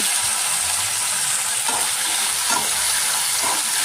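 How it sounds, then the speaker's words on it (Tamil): Three medium tomatoes frying in a pan for chutney, a steady loud sizzle with occasional stirring scrapes, heard up close without talk. "இப்போ நான் வந்து மூணு தக்காளி போட்டுக்கிறேன் மீடியம் சைஸ் தக்காளி மூணு"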